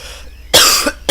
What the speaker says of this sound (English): just gonna cough